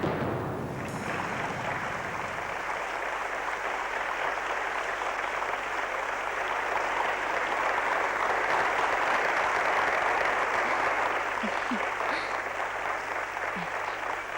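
Audience applause fills a theatre after a stage performance, a sustained, even wash of clapping that holds steady at moderate level, with no voices over it.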